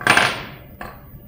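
Metal clinks as screws and jaws come off a D1 lathe chuck: a bright ringing clatter at the start that fades, then one sharper tap, close and fairly loud.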